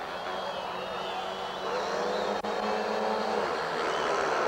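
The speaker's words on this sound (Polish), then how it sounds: "Billy Hemil, szybki jego motocykl, szybki motocykl Carlsona." A continuous roar of speedway motorcycle engines, loud and steady, with Polish commentary speech running over the top throughout.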